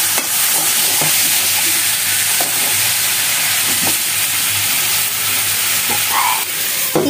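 Raw jackfruit and native chicken, with the jackfruit first fried in ghee, sizzle steadily in a pan while a spoon stirs through them, giving occasional scraping clacks against a constant loud frying hiss.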